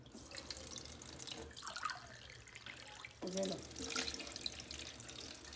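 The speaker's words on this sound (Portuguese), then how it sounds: "Pego da torneira mesmo a água." Water runs from a household kitchen tap, a steady hiss of flow that swells louder partway through, while someone speaks briefly over it nearby.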